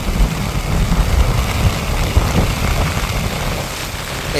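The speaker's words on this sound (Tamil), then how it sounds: "காற்று வந்து சிரம வேகமாக அடிச்சு கொண்டு போகுது" Heavy storm noise in Jaffna, Sri Lanka: a broad, continuous rushing roar of strong wind with gusting surges and no talking, loud and close throughout.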